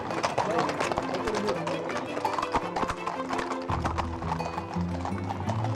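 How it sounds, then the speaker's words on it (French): Horses at a horse blessing in Provence clop busily on hard ground with occasional whinnies, a dense, near crowd of hooves under steady talk and music. "j'assiste à la bénédiction des chevaux à Berlétan"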